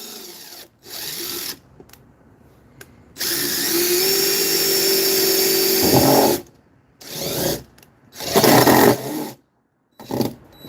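A power drill drives self-drilling screws through sheet metal in several loud bursts, with a long whine while one screw bites through the metal and then shorter runs between pauses.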